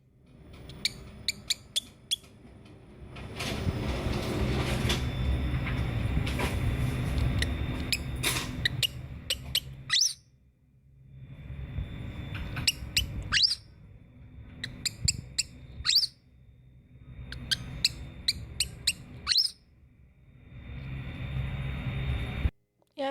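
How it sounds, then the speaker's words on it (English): A caged kinkajou gives bursts of sharp, high squeaks and clicks in clusters over a hissy, rumbling background, faint and distant-sounding, with no talk. "that is a sound of a kinkajou that's being held in a cage."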